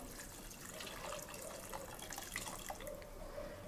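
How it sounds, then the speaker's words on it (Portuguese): Quiet trickling and splashing of water poured over tangerine peels in a pot, soft and continuous with small drips, no speech. "Vamos cobrir novamente com água."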